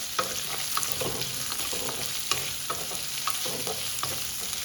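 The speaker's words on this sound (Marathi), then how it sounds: "छान परतून घ्यायचं" Onion and garlic sauté in a pan for a dhaba-style capsicum dish, giving a soft continuous sizzle broken by light stirring clicks and scrapes, fairly quiet and without speech.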